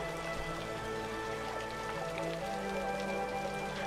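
Steady rain falls in the city-building game Cities: Skylines, a continuous even patter with a soft low hum of background game ambience and no talking.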